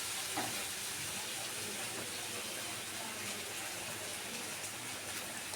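Cooked rice going into a heated pot over ghee for chicken biryani, with a steady, moderately loud sizzle and some clattering throughout.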